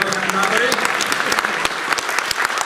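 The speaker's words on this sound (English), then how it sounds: "A big applause for them." Sustained applause from a crowd fills the clip, steady and loud, with some cheering voices mixed in.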